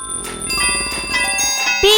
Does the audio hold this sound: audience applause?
no